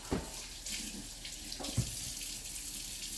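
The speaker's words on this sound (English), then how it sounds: "So I'm gonna wash my hands once more" Tap water runs steadily into a sink while hands are washed before seasoning fried ribs, a continuous hiss with a couple of soft splashes and clunks, close and alone without talk.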